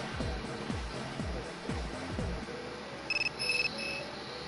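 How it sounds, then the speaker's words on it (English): In the video game Persona 3 on PS4, a cell phone rings with short, high electronic chirps heard faintly over game music, with low rhythmic swells fading beforehand. "Your cell phone is ringing."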